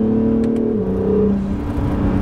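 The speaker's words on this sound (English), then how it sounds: "has a 3-inch custom exhaust, and even just idling when he pulled into the parking lot, like the turbo whistle up and down is very nice" A modified 2017 Acura NSX with a 3-inch custom exhaust and turbo, running close by with a whirring engine tone that steps down in pitch partway through, no voices present.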